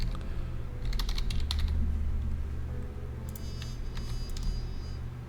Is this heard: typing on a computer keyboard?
yes